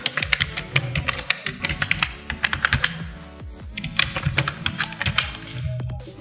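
Rapid, uneven clatter of a computer keyboard as a channel name is typed, near and alone, with a short pause midway before the keystrokes continue.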